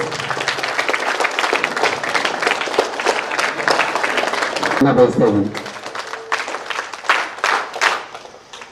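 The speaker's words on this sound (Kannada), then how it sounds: "ಜೋರು ಚಪ್ಪಾಳೆ ಬರಬೇಕು." Applause from an audience at a birthday event for minister N. Chaluvarayaswamy in Mandya, with a speaker talking loudly over the crowd's clapping and claps continuing between phrases.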